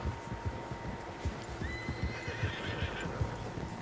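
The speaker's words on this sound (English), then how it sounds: "Horses, quite a few of them." Several horses neigh and whinny with steady clip-clop of hooves in Red Dead Redemption 2, a mid-distance herd heard continuously with no talk over it.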